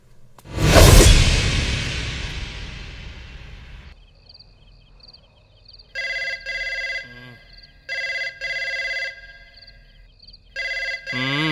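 A Bhojpuri film scene opens with a loud whoosh that fades, then a telephone bell rings in three loud electronic bursts separated by short pauses.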